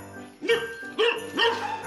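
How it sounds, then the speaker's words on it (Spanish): A dog gives three sharp barks about half a second apart, close and loud, with no talk over them. "Me están ladrando, Naco."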